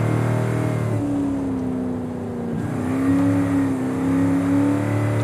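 A 1970 Chevrolet Chevelle SS 454 big-block V8 revs hard up close, its loud, throaty roar dipping briefly mid-clip before climbing again into a sustained high-rpm howl.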